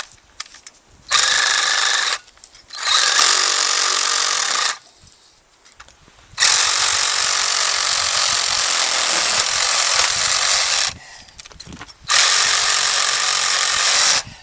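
Powered saw cutting through deer bone while quartering a deer outdoors, a loud harsh buzzing in four long bursts separated by short pauses, close and with no talk.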